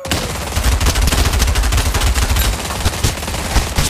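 Dense, loud bursts of automatic gunfire fill a Backrooms video game fight, with rapid overlapping shots and no pause throughout.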